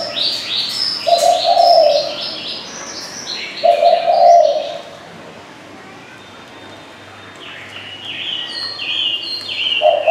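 A spotted dove calls in repeated coos, loud and near, about two seconds apart, with high chirps from other birds in between and after.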